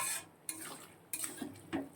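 Soya chunks stirred and sautéed in a pan, giving a few separate scraping and clinking strokes of a spoon against the pan over a faint sizzle, close by.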